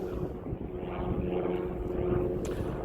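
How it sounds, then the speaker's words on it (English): A steady, low droning rumble of an airplane passing overhead during a hike on the Ridgeway, continuous throughout with no speech. "Yeah, there's a plane just going over."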